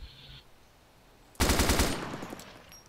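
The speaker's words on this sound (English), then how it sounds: "I'm returning fire in the general direction." Rapid automatic gunfire in a shooter video game, a loud burst of close shots lasting about a second and then tailing off, with no talk over it.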